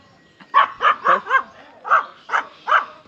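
A young German Shepherd puppy at a park barks seven times in quick succession, sharp, close and loud yaps with short gaps between them.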